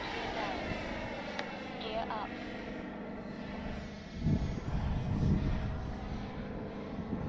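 A Freewing 80mm Avanti S V2 RC jet flies on a windy day, a steady whining engine tone under wind noise, with a louder swell near the end as it passes closer; a person talks over it.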